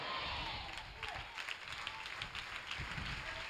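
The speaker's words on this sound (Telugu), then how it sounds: "చప్పట్లు కొడుతుండగా" A church congregation applauds during a Sunday service, a faint, steady patter of many hands clapping that carries on for several seconds without pause, heard from a distance.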